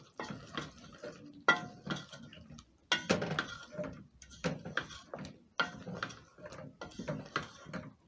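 A spoon stirs matoke and peas stew in a pot, giving repeated close scraping and clinking bursts in an uneven rhythm, with short pauses between strokes and no talking.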